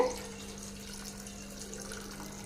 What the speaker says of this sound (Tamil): இந்த சுண்டல் மூழ்கிற அளவுக்கு தண்ணி சேர்த்திக்கலாங்க